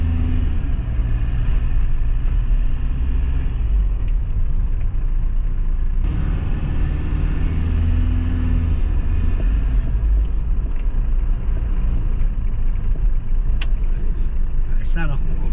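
Toyota Fortuner engine running with a check-engine fault, a steady low rumble heard from close by, with people talking over it throughout.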